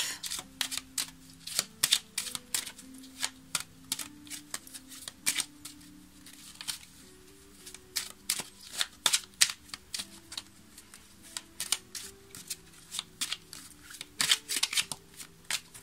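Tarot cards being shuffled and cut by hand, a long run of crisp riffling bursts and flicks in an irregular rhythm, close and clear over faint background tones, with no talking.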